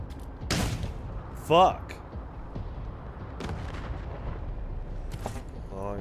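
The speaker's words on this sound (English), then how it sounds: "You can fire your gun again." Gunshots in the video game Wasteland 3, a few separate booming shots over a quiet background, with someone speaking briefly.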